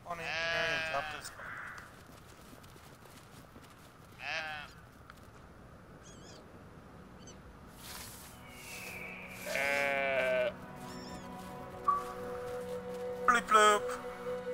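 Sheep bleat in a video game in short separate calls scattered through the stretch, some fairly clear and others fainter, set against a quiet ambient background with other brief game noises.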